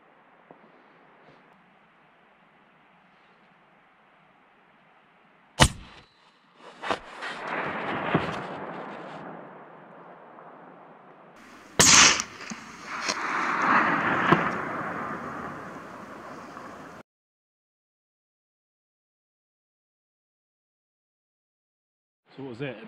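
Two sharp, loud long-range rifle shots echo through South Westland mountains during a tahr and chamois hunt, each followed by a long rolling boom reverberating across the valley, over faint wind, with brief low voices.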